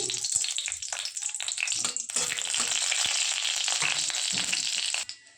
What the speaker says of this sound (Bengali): কালো জিরে দিয়ে দিচ্ছি একটু ফোড়ন।